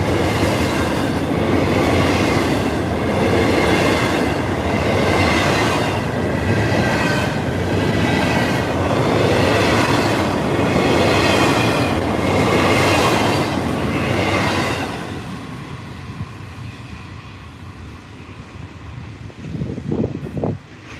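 A freight train hauled by locomotives rolls past loudly and steadily for about fifteen seconds, its wheels rumbling and clacking over rail joints, then fades to quieter trailing rumble with a few thumps.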